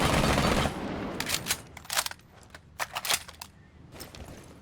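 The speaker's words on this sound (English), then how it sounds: "So to start off, I'll let the gun do its own thing, so I'll just shoot it" SMG11 submachine gun fired in Rainbow Six Siege: a dense opening burst followed by several short rapid bursts of crisp, close shots separated by brief pauses.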